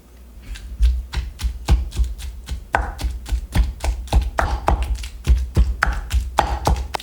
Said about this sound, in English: I like to cut the shallots up just a little bit more